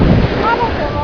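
Ocean waves wash onto a beach under a steady roar of wind buffeting the microphone, a loud, continuous surf rush with no pause.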